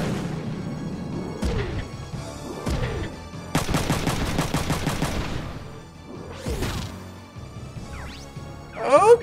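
Gunfire in the mech strategy game Front Mission 3 at a naval base hilltop ambush: scattered shots and sweeping synthesized effects, then a rapid rattling burst of repeated shots lasting about two seconds, followed by further blasts and a final loud hit.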